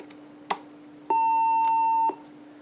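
A Uniden EXS2080 900MHz cordless phone's answering machine sounds a steady electronic beep of about one second before a voice memo, preceded by a short click, in a quiet room with faint hum.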